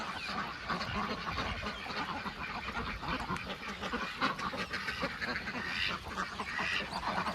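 Ducks on a duck farm, a dense chorus of many quacks and honks overlapping continuously at moderate distance.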